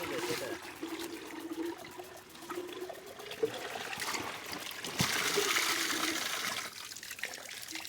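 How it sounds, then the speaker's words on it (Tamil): Water from a tap runs steadily into a container, a continuous splashing trickle that swells louder toward the end, with faint background voices. "தண்ணி பிடிச்சிக்கிறா"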